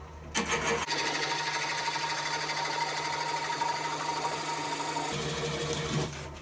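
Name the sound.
wood lathe spinning a wild birch bowl at 600 RPM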